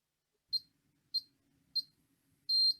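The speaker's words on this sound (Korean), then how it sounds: "삐 소리가 나면 다 되었다는 소리거든요" Hair styler beeping when a roll is finished heating: three short, evenly spaced high electronic beeps followed by a longer final tone, clear and close in an otherwise quiet room.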